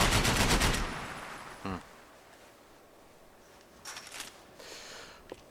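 In the video game Max Payne, a rapid burst of synthetic gunfire opens loudly, followed by a single sharp shot, then quieter scattered bursts further off.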